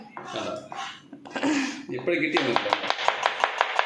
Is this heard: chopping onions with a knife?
yes